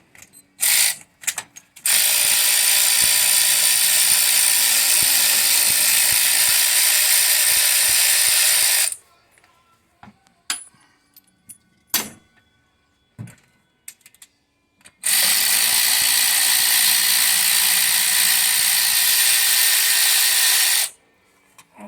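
A ratchet wrench with a 9/16 socket on a 3-inch extension works loose the mechanical fuel pump on a 1971 Chevelle, two long runs of fast, steady clicking separated by a stretch of scattered taps and handling noises.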